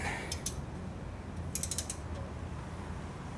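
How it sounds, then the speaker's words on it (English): A socket wrench cranks the engine over by hand during a flywheel swap on a Yamaha YXZ 1000R, giving close, quiet ratcheting clicks in short bursts over a low mechanical rumble. "I can actually crank it pretty easy with just the socket"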